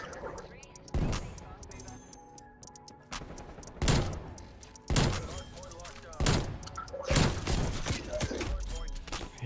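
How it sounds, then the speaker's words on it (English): Gunshots in Call of Duty: Black Ops Cold War, about five loud separate bursts spaced a second or two apart, each with a sharp attack and a short decay, over game ambience and a voice. "He shot me through a wall."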